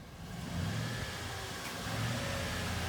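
A car is driven in and parked, its mid-pitched engine running steadily and rising slightly toward the end, close by and without talk.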